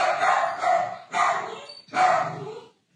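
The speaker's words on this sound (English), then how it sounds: "Dog barking." Dog barks in three loud, close, drawn-out bursts roughly a second apart, with a short silence after the last.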